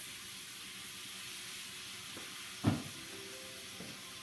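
Stewed tomatoes drop into a hot pan for tikka masala, a steady background sizzle broken by one sudden loud splash and hiss, followed by faint scraping.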